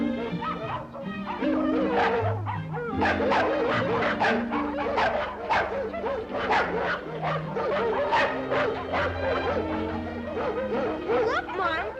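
A cartoon dog barks, yips and whimpers in quick, close bursts over a busy musical score, with a voice briefly present.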